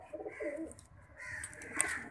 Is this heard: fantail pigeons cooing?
yes